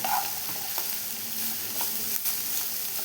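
Capsicum and cabbage stir-fry for veg Hakka noodles, a constant close sizzle with occasional spatula scrapes and knocks against the pan, no voices.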